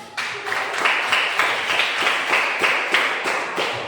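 A classroom of students claps together in a rhythmic, unison pattern, with sharp, evenly spaced beats repeating steadily for several seconds, fairly close and loud.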